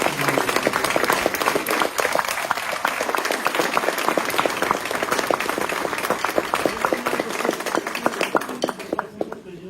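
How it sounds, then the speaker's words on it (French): A crowd claps loudly and continuously at the opening of a carnival season in Cappelle-la-Grande, with crisp individual claps standing out in the dense applause. "Vous pouvez l'applaudir"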